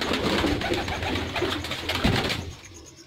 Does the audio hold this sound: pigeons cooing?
yes